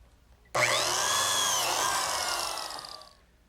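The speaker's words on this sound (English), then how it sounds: "Now I'll cut all the slots in the remaining edges." A biscuit joiner cuts a slot into a wood edge: the motor snaps on abruptly into a loud, high whirring whine, holds for about two and a half seconds, then winds down and fades.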